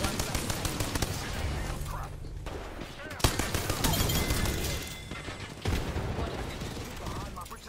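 Dense, rapid gunfire in the Apex Legends video game, with bursts and sustained automatic fire over a busy battle mix, a sharp impact near the middle and voices talking underneath.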